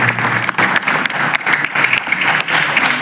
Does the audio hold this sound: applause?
yes